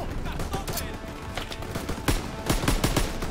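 Gunfire in the Call of Duty WW2 video game, a chaotic battle with single shots followed by rapid bursts and booming impacts, dense and loud, with shouting voices mixed in.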